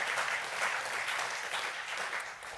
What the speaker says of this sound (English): Round of applause for them.